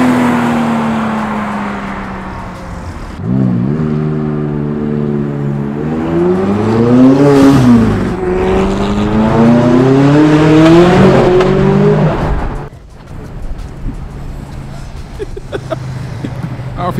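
A convertible car that has lost its roof revs its engine on a London street, a loud rising and falling roar with gear-like pitch sweeps that builds and then drops away, over steady traffic noise.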